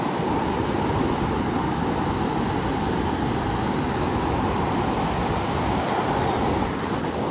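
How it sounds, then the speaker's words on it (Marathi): Water overflowing at a dam waterfall makes a dense, continuous roar close by, steady and broadband with no pauses. "हे धबधब्याचा ओव्हरफ्लो राहता ना."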